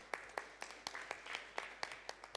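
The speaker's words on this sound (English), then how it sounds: "one more round of applause for our panelists today" An audience at a panel session on Africa's creative industry claps for the panelists: sparse, quiet, distinct hand claps from a small crowd, spaced irregularly and heard at a slight distance with no talk over them.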